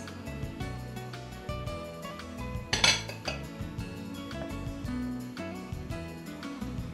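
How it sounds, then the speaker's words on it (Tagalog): Ensaymada dough ingredients, including egg and milk, are mixed in a bowl, with a utensil clinking and scraping against it in an irregular rhythm and one louder clatter near the middle. "Haluin mabuti hanggang magsama-sama ang basa't tiyong sangkap at makabuo ng masa."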